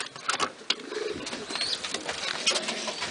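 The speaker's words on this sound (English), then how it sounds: "I've got 7 more birds to add into here, and then" Pigeons in a breeding loft coo softly and steadily, with a few flutters of wings and faint chirps close by, no voices over them.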